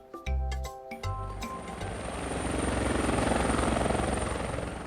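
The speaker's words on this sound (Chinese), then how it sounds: "对啊，会当出动直升机。" A helicopter passes, its rotor thump swelling from faint to loud and near over a few seconds after a couple of brief knocks at the start.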